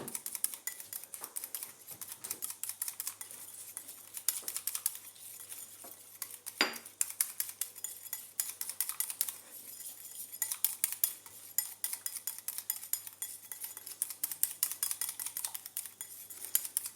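A spoon stirs a homemade hair-care mixture with olive oil in a bowl, giving rapid, steady light clinks and scrapes against the bowl under a faint hum.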